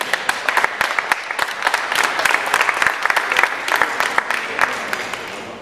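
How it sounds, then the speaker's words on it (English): An audience at an organic agriculture conference session applauds its panelists with steady, fairly close clapping that holds at an even level throughout, with a faint murmur of voices mixed in. "our panelists, they really deserve a big applause"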